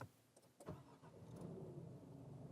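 A Nissan Navara NP300 pickup with a 2.3 liter twin-turbo diesel cranks and catches after a brief starter burst, then settles into a steady, gruff idle close by with no talking.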